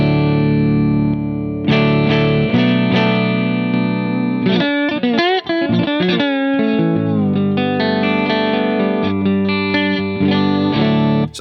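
Slide guitar played through a compressor pedal, sustained sliding notes with gliding pitch bends, loud and upfront, with a thick compressed tone and brief gaps between phrases.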